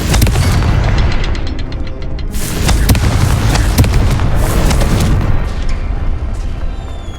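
A Confringo blasting spell exploding in Hogwarts Legacy, a loud booming blast with rumbling debris that decays over several seconds, accompanied by crackling effects.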